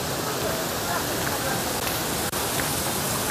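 Small waterfalls in Bosnia and Herzegovina rush in a steady, broad wash of falling water heard up close, continuous and even, with a faint momentary break.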